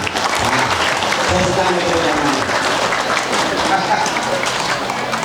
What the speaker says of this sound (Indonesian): berikan A+, tepuk tangan